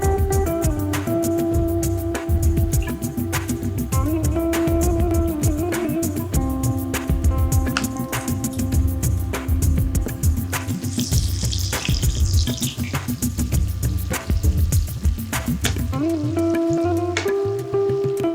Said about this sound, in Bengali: তাতে দিয়ে দিন 3টি পেঁয়াজ লম্বা করে কুচানো। ভাজুন ততক্ষণ যতক্ষণ না স্বচ্ছ হয়ে ওঠে।